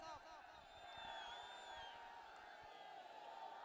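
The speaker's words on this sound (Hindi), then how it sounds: "जोरदार तालियों से अभिनंदन करें सचिन पायलट साहब" A large crowd at a farmers' rally in Parbatsar, Nagaur, welcoming Sachin Pilot with a continuous roar of applause and cheering, broken by high whistles and whoops, at a steady, fairly distant level.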